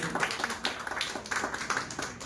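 A small audience at a National Doctors' Day event claps in a steady scattered patter, fairly quiet and brief, with no talking over it.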